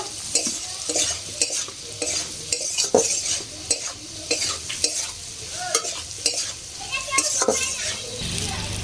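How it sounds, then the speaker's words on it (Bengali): Amla sizzling and being stirred in hot oil with chilli powder and turmeric, a steady close fry broken by clinks and scrapes of a spoon against the pan, with faint voices in the background. "একটু কষিয়ে নিয়েছি লঙ্কা গুঁড়ো হলুদ দিয়ে"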